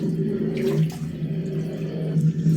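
Flood water around a home flows and sloshes continuously nearby with a steady, watery wash.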